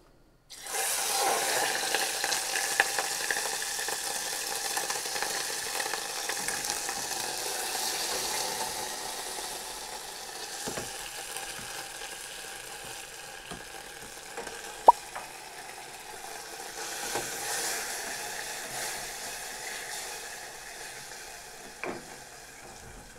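Cheese dropped into hot oil for a cheese currywurst fries with a steady loud sizzling hiss that holds for over twenty seconds, easing slightly midway, with a few small clinks.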